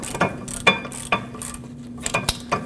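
A ratchet with a 13mm socket clicks in short bursts of sharp pawl ticks, close and clear, while breaking free the bolts of a rear brake caliper bracket on a 2013-2019 Ford Escape.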